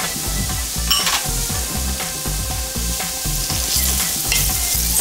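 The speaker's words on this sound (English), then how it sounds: "fry the onion until it's golden brown" Onion and garlic frying in a pan with curry leaves, a bright steady sizzle with rhythmic spoon strokes scraping the pan throughout.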